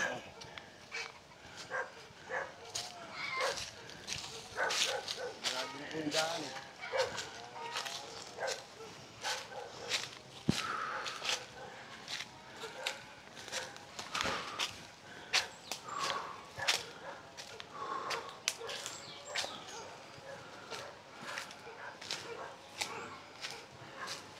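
Several tied-up dogs bark and yip in scattered bursts at moderate distance, with footsteps and faint voices mixed in.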